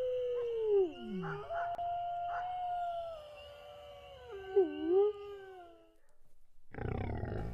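Arctic wolves howl in long, gliding tones that rise and fall, several voices overlapping in a chorus that fades out before a brief burst of noise at the end.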